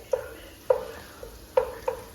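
Pancetta frying with onion and garlic in a pan for pansit: four distinct scraping stirs at an uneven pace, heard close over a soft, steady sizzle.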